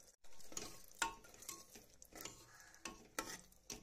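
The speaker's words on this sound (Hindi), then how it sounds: "अब इसे मिक्स करता हूँ" Kidney beans are mixed into fried spice masala in a cooking pot, with a few quiet, uneven spoon scrapes and knocks over a faint sizzle and no talk.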